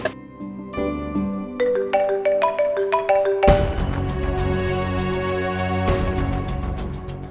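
A mobile phone ringtone plays a bright melodic tune with rising notes, then switches into a louder, denser rhythmic pattern that keeps repeating with steady beats, ringing clearly and with no voices.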